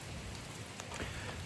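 Soft, steady rain falling outdoors on Mont-Royal, a faint continuous patter and hiss of drops with no voices, fairly quiet and even throughout.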